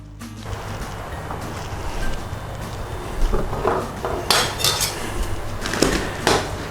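A kitchen knife cuts straight through a whole cabbage on a board. After quiet handling, several crisp crunching chops land close by in the last few seconds.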